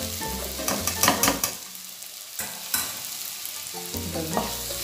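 Fried bitter gourd stirred into a hot pan for a theeyal curry, with a steady sizzle under bursts of scraping and clattering as the pieces are tossed, close and without speech.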